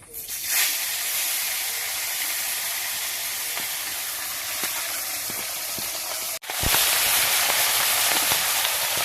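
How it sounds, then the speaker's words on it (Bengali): Fish frying in oil in a wok gives a loud, continuous hiss throughout. It breaks off for an instant partway through, then resumes at full strength. "আমি এক এক করে মাছগুলো ভেজে নেব।"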